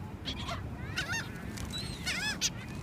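Several gulls on a beach in Wildwood, New Jersey give loud squawking, honk-like calls in quick bursts during feeding, some overlapping, over steady background noise.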